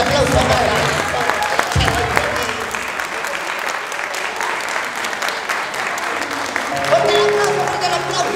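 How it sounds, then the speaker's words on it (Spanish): An audience claps at a clown show in Mexico City, loud, dense applause that runs continuously for several seconds with voices and music mixed in. "Fuerte el aplauso para mi amigo, fuerte el aplauso para mi amigo."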